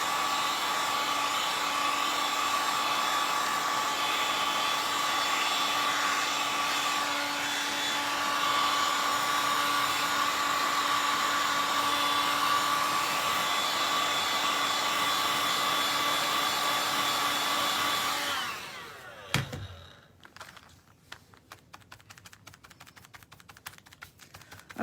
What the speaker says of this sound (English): I'm just going to heat it up very quickly with my heat gun.